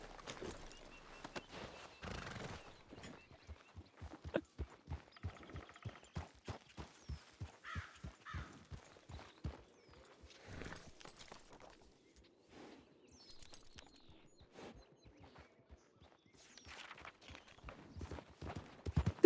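Horse hooves clip-clopping steadily as a mount approaches in the WildRP western role-play game, a regular rhythm of close, crisp hoofbeats with a neigh or snort and faint birdsong in the background.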